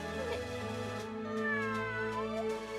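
A person imitates a cat, giving a drawn-out, wavering meow that bends up and down in pitch over a steady sustained background tone.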